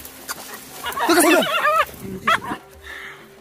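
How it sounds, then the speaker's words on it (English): Hadza hunting dogs bark in a short excited burst during a bush pig hunt in an African village setting, a few close yelps and barks over about two seconds amid outdoor noise. "The dogs didn't want to let it go"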